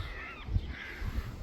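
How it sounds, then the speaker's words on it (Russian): Crows caw overhead while circling above a construction site, a few rough, hoarse calls at moderate distance over a quiet outdoor background. "Кружатся, каркают что-то."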